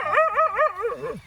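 A dog close by gives a quick run of loud, high yelping barks that slide into a whining whimper at the end.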